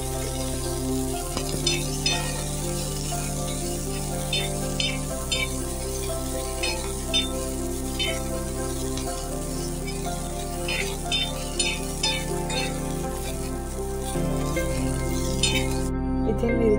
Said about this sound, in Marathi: थोडं तेल ओतून आपल्याला ह्या मिरच्या चांगल्या भाजून घ्यायच्या आहे।